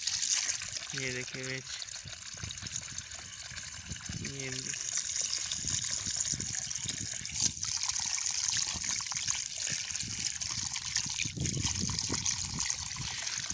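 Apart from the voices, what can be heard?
water gushing from a running water pump motor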